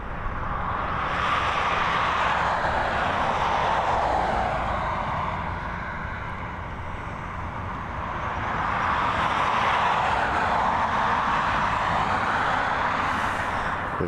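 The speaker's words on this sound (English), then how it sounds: "We've got an ATR 72600 on taxi as well." An ATR 72-600 turboprop taxiing at Dublin Airport, a steady loud engine drone that swells and eases slightly as it moves, heard alone at moderate distance.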